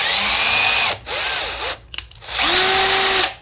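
Power drill threading a hole in a sump pump box, running loud and close in long high-pitched whirring bursts separated by short pauses and a few clicks, the motor pitch shifting as it bites.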